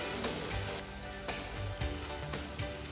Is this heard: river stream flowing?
no